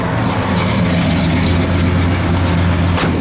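A 1967 Oldsmobile 442 V8 idles loud and close with an uneven, lumpy cam rhythm, a steady low rumble ending with a short click.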